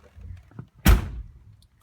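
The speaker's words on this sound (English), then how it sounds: "And with the door shut," A truck door shuts on a GM full-size Yukon, Tahoe, Suburban, Sierra, Silverado or Avalanche, giving one close, solid thunk after a few quiet low rustles, then fading fast to near silence.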